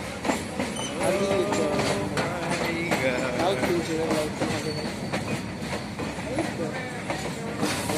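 A moving train rumbles and clatters steadily on its rails, with rhythmic wheel clacks and faint metallic squeals, while people talk nearby.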